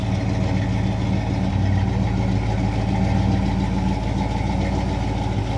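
Steady, low rumbling idle from a 1965 Ford Fairlane 500's 289 V8, recorded up close with a constant even throb and no voices.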